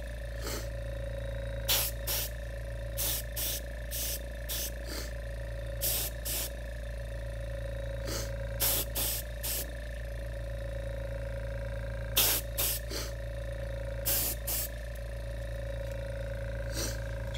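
DuraCoat flat black firearm coating sprays in short, repeated bursts of hiss with brief pauses, close and moderately loud over a steady low hum from an airbrush compressor.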